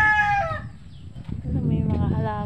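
A rooster crows once, close and loud, in a backyard where plants are being arranged, with low rumbling background noise under it.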